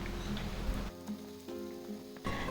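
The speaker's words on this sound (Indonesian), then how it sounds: "goreng kembali perkedel singkong hingga terselesaikan" Cassava fritters (perkedel singkong) fry in hot oil, a soft, steady sizzle that drops away briefly midway and returns near the end.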